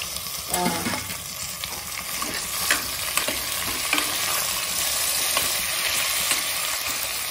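Bottle gourd pieces, tomato and onion stir-fry and sizzle steadily in a pan, with occasional stirring scrapes and brief crackles, close and continuous with no talk.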